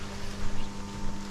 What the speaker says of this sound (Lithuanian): Ojej, koks vėjas.